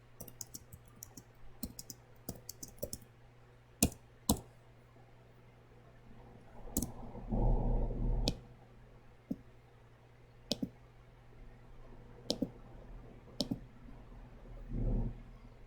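Typing on a computer keyboard gives sparse, close clicks and short bursts of keystrokes, irregularly spaced, over a low steady hum, with a brief duller rustle midway.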